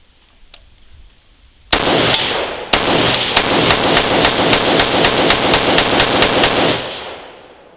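A Lancer L5 magazine loaded with 15 rounds and caked with dirt and grit fires them in a rapid, even string of loud, close gunshots after one opening shot, then the noise tails off.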